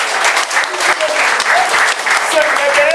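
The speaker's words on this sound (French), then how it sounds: "Il faut applaudir à Jésus." Congregation clapping during a church service, rhythmic applause layered with voices and singing, loud and close throughout.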